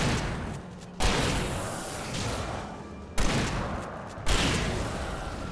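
Shotgun blasts in the video game Alan Wake: three heavy, loud booms spaced apart, each followed by a long rumbling decay over a noisy background.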